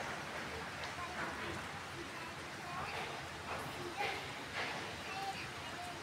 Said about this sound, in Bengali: বৃষ্টি পড়লে দারুণ লাগে